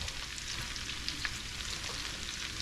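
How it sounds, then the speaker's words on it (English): Onions softening in melted butter in a frying pan, a gentle continuous sizzle with faint crackles, close and steady with no talking. "with the onions into the frying pan there. Just remember not to fry the onions for the pickled fish, just to soften them up."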